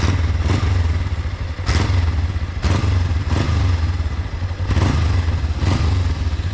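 Kawasaki ER5 motorcycle engine idling steadily after long storage, following a cylinder head swap and fresh fluids, loud and close with recurring clattering thumps over the continuous low drone, no talk.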